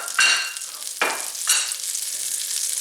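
A tablespoon of butter hitting a large skillet over medium heat, giving three sharp hissing bursts followed by a softer, steady sizzle as it melts.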